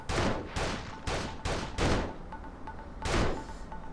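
Gunfire in the video game Urban Chaos Riot Response: several loud, heavy bursts of shots in quick succession, with short gaps between them and a final burst near the end, no talking.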